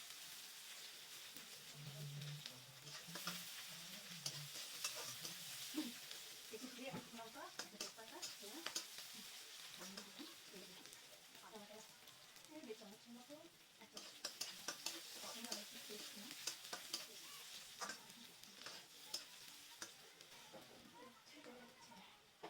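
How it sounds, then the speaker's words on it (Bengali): Chopped onions frying in a pan for a Bengali pointed gourd and coconut dish, a soft steady sizzle with stirring and utensil scrapes, heard under a person talking throughout. "পেঁয়াজগুলো দিয়ে একটু লাল করে পেঁয়াজগুলো একটু ভেজে নেব।"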